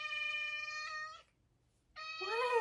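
A house cat gives two drawn-out meows close by, separated by a brief silence, the second rising and falling in pitch.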